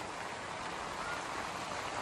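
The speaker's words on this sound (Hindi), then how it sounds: "बारिश बहुत तेज आ रही है आज" Heavy monsoon-style rain pours steadily, a dense even hiss with no pauses and no other sounds standing out.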